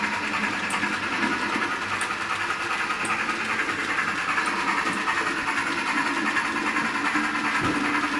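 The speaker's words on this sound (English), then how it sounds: "if you press down on the tender with your finger as it's running, then it'll chuff" Model steam locomotive from a Lionel HO Polar Express set running on track, giving a steady hissing chuff with faint rhythmic clicking, fairly close, with no voices.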